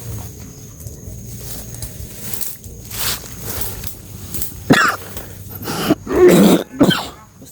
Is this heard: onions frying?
no